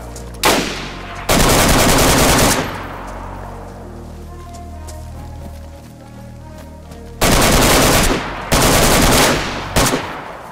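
Loud bursts of automatic gunfire in a DayZ PVP firefight with M4 rifles, several sustained volleys spaced across the clip with quieter ambient gaps between, close and harsh.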